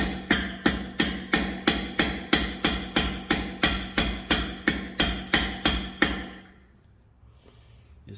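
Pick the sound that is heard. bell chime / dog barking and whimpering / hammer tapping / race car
hammer tapping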